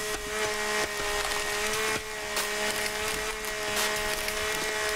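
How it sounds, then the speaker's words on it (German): Trees being chopped down in the survival video game The Forest, a sustained gritty mechanical whir with scattered sharp knocks and cracks, played alone at moderate level without talk. "Ich fälle hier jetzt wieder Bäume."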